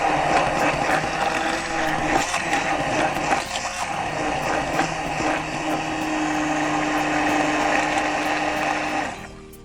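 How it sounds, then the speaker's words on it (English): An immersion blender whirs steadily through guar gum hair gel with added preservative, a loud continuous motor drone with slight pitch wobble for several seconds before cutting off at the end. "I'm going to blend well to make sure everything blends together with my immersion."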